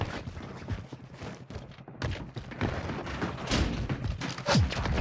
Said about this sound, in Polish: Wybuch granatu.